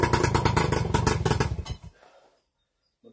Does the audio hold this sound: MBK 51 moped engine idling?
yes